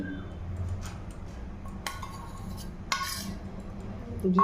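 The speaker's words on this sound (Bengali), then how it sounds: "আমি ভালো করে হলুদটাকে চালের সঙ্গে মিক্স করে নিচ্ছি" A spoon mixes Gobindobhog rice with turmeric and ghee in a pot for Bengali pulao, giving soft scraping and a few sharp clinks against the metal, close and moderately quiet.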